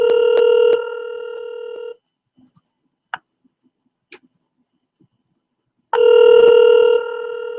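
A telephone ringback repeats twice on an unanswered call, each long buzzing ring about two seconds, separated by several seconds of near silence with a couple of faint clicks.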